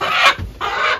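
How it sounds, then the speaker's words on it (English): A rooster in a homestead chicken run gives two close, raspy clucking bursts separated by a brief pause. "It's a pretty rooster."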